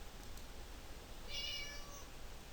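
A cat's meow plays once from a mobile app, short and fairly faint against steady background hiss, with no talking.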